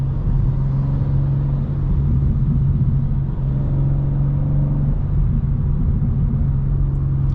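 Manual BMW M2 rumbling steadily while driving through city streets, a loud, close, constant engine drone from inside the car with no clear rise or fall in revs.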